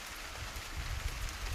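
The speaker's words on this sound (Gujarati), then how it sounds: "ને વરસાદ ચાલુ થઈ ગયો છે" Light unseasonal rain patters steadily and softly on a farm with sunflower crops, an even hiss of drops with a slightly heavier patch midway.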